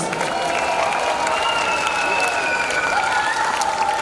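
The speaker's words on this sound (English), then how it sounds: "Let's give them and the Qualls another round of applause." Audience applause for a primary school choir at a school tree lighting ceremony, a steady dense wash of clapping from a large crowd filling the whole moment, with some cheering mixed in.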